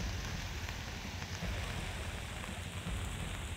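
Heavy, continuous rain in Chamoli, Uttarakhand, after two days of downpour: a dense, steady hiss of drops on surfaces with no breaks, close and fairly loud throughout.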